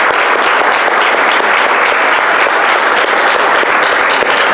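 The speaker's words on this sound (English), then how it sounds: "Let's give them a round of applause." Loud, dense audience applause at a Johns Creek City Council runoff candidate forum, a continuous wash of many hands clapping at full strength throughout, with no talk over it.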